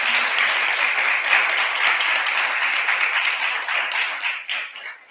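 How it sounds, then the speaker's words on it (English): Audience members at an educational inauguration-day event clap steadily, a dense patter of many hands that gradually fades and breaks up into a few last claps. "Let's give them all a round of applause"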